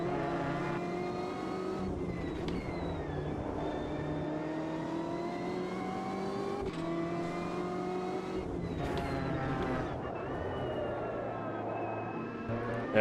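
A BMW M8 GTE race car in Automobilista 2 at Laguna Seca roars continuously at full power, its engine note climbing and dropping through gear changes, with a brief tire squeal around a corner.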